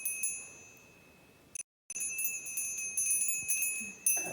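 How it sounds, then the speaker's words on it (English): A bell rings to open a church service, with several bright strikes whose clear tones hang and ring on, loud and close, broken by a brief gap before another strike. "Cy, can you ring the bell?"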